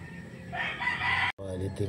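A Red Kelso gamecock rooster crowing once nearby, a short strained call that breaks off abruptly, then faint clucking and yard noise.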